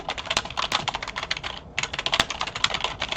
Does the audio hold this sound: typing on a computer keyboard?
yes